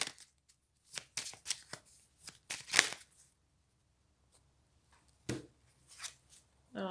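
Tarot-style cards are drawn and handled during a card reading: scattered dry, papery flicks and slides come in short clusters, close and fairly soft, with quiet gaps between them and no talking.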